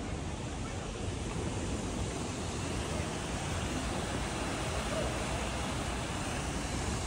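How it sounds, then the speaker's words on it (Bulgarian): A river flows in Germany as a steady, broad rushing wash of water that stays even and moderately distant throughout, with no other distinct sounds. "Ето е реката."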